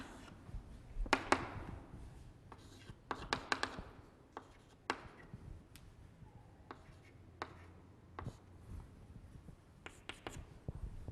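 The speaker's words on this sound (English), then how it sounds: "let me write it here" Marker or chalk strokes on a board during a chemistry lesson, a scatter of short taps and scratches at an uneven pace over faint room noise, close by and quiet, with no talking.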